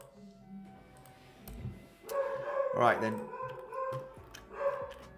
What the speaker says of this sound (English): I got my dog going crazy there, if you can hear it.